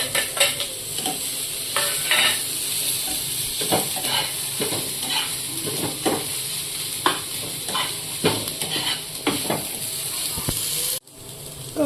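Onion, tomatoes and spices frying in a pan for an egg fry, a steady sizzle and hiss with repeated scraping stirs of a spoon, close and fairly loud, ending in a brief dropout.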